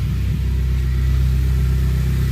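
The 1.8-litre turbo engine of an Audi A4 B5 quattro idles steadily up close, a loud, low, continuous rumble with an even pulse after its ignition control module harness is deleted.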